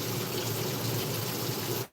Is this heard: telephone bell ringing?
no